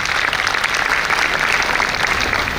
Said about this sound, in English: I would request you to give a huge round of applause for their efforts